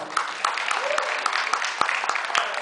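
Audience applause fills a theater during a film-noir screening introduction at the Noir City festival in Seattle's SIFF Egyptian, a steady dense patter of many hands with a few sharper claps standing out, moderately loud and close.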